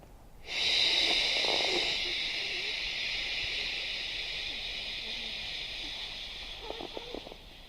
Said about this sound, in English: let the breath out on the shh sound